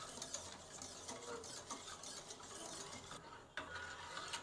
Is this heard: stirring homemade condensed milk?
yes